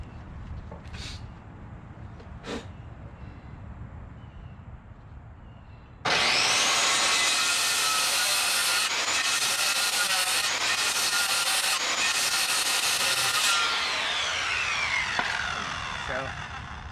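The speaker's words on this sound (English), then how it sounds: "I'm just gonna cut away half of this thickness, and then I'm going to chisel it out of place." Power saw cutting halfway through wood for a trellis joint: loud, sustained buzzing that starts abruptly after a quiet stretch and runs about seven seconds, with brief dips in intensity, following someone speaking.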